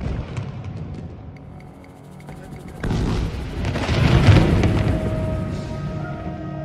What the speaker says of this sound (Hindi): गाजा में इजराइल का बम गिरता है।